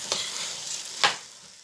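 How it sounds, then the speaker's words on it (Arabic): Chicken tossed with vegetables in a pan for chicken biryani, with two brief stir scrapes over a soft, steady sizzle. "هشوحه مع الخضار كده"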